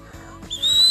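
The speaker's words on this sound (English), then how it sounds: "he knows how to use his whistle, so that's good" A boy on a hike at a primitive camp in Purtis Creek State Park blows a whistle, a short near burst rising into a sustained shrill tone at the end, with soft rustling before it.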